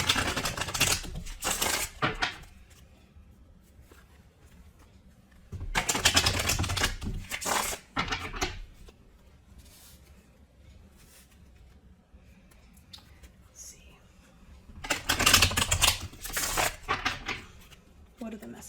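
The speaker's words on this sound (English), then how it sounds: "I am going to shuffle them a bit now for good measure" Tarot cards being shuffled by hand, heard as three separate bursts of crisp riffling and snapping cards, each lasting a second or two, with quiet pauses between them.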